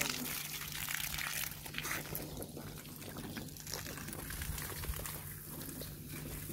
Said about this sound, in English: Suha, come get wet.